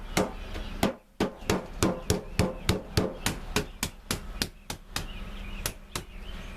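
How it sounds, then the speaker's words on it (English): A hammer taps outdoor patio tiles together rapidly and steadily, about twenty sharp knocks in a quick even rhythm after a brief pause, close and crisp with no talking. "I can just take my hammer and tap them right back together"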